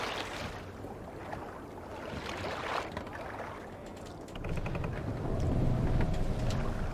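A Viking longship rowed across open water in Assassin's Creed Valhalla, soft rushing water and wind with rhythmic splashing of oars, growing fuller toward the end.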